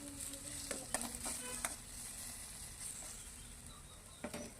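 Chopped tomato sizzling and frying in a pan with stirring for chicken curry, steady close hiss with a few brief scraping clatters, no voices.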